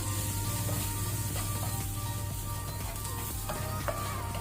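Chopped onions frying in a pan with bay leaf, curry leaves and salt, stirred steadily; a continuous close sizzle with scraping spoon strokes throughout, no talking.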